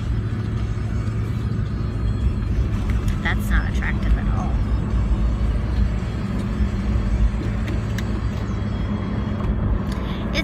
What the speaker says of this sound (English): Oh, there's so much traffic